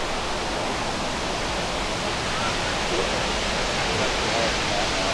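Multnomah Falls pours down in Corbett, Oregon, heard up close as a dense, constant roar of falling water that fills the whole scene, steady and loud with no break.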